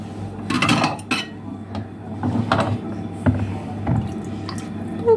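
Pots and cutlery clatter up close as dishes are washed by hand. Irregular metallic clinks and knocks sound over a low, steady background hum.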